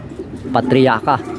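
Pigeons cooing up close in a short, throaty burst of two or three soft rolling coos, with faint background murmur.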